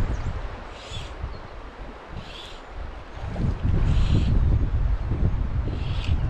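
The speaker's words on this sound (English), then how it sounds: "Hear that wind? I'm sure you guys can hear it in the camera." Wind gusting beside Pine Creek during a May fly fishing outing, a broad steady rush that swells louder in the second half, buffeting the microphone with no talking.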